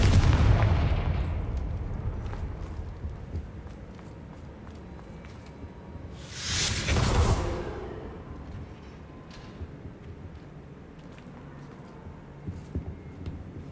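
Confringo fire-blast spell cast in the Hogwarts Legacy video game: a loud booming burst roughly midway through, set against a rumbling, explosive game soundscape that starts loud and settles into quieter background noise.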